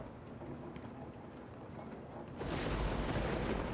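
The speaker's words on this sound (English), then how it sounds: "I hate the loud thunder." Thunder rolls in a lighthouse horror video game, a loud rumbling swell that surges midway and sustains over constant rain and ambient noise.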